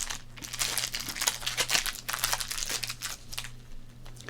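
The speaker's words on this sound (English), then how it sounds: "First, we'll open up the pack of cards." A 1991 Pro Set Platinum football card pack being opened by hand, giving close, crisp crinkling and crackling of the wrapper in irregular bursts throughout, with no talking.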